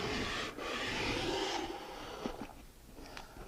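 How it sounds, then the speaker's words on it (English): Sandpaper rubbed by hand over a curved wooden cove, a soft continuous rasping scrape that eases off into quieter, intermittent strokes, close and faint. "when I'm sanding this cove, for example, I can radius it easier than if I have a long one"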